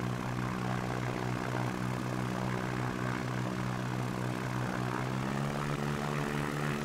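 A propeller airplane engine in the X-Plane flight simulator runs at full throttle for takeoff, a loud, steady droning hum with strong harmonic tones that rise slightly in pitch near the end, with no talk over it.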